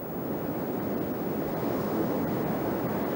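Sea waves and surf wash along the beach near Renesse, giving a continuous, fairly close broadband roar of breaking water mixed with wind buffeting the microphone.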